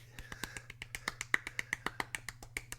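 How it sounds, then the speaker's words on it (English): A small scattered clap, light and sparse, with a quiet, irregular rhythm of soft hand claps and no voices. "Golf clap."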